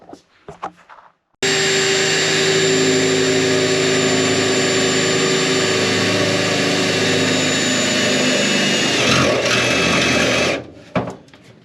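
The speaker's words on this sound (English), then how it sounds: "I am going to drill a hole through the inner fender here" A power drill whines steadily for several seconds at close range, drilling a hole through a car's inner fender, its pitch holding even and then dropping as it winds down.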